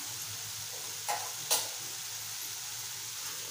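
Potatoes fry with Malvani masala, coriander powder and garam masala in a pan, giving a soft steady sizzle with two brief clinks of a spoon being stirred through, fairly quiet and close.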